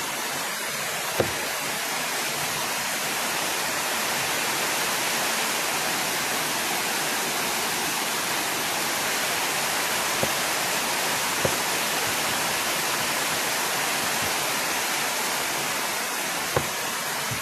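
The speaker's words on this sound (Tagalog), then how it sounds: "grabe, ang lakas ng ulan" Heavy rain pouring down steadily, a dense, loud, unbroken hiss of water with a few faint knocks standing out briefly.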